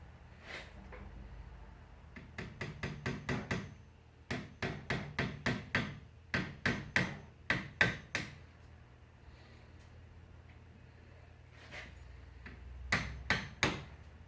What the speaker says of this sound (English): Now I'm just going to tap these with a small hammer.